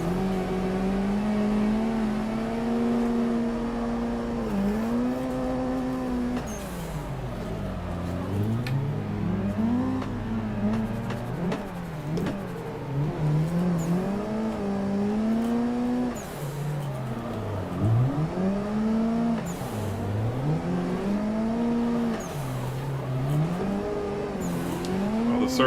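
A drift car in Assetto Corsa revs and bounces off the limiter, its engine pitch swooping up and down repeatedly through slides, with occasional tire chirps, continuous and fairly close with no talk.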